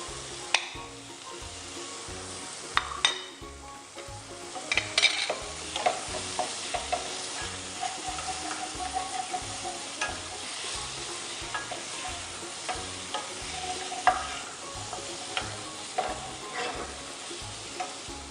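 Onion fries in butter in a pan while preparing a savoury puff-pastry filling, a continuous close sizzle with a regular low pulsing underneath and scattered sharp crackles and spatters, with no voices.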